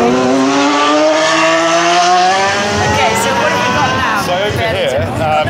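A 1997 Benetton Formula 1 car, Gerhard Berger's, screams along a track, its high-revving engine rising in pitch and then shifting through gears as it passes close and loud, with a commentator talking over it.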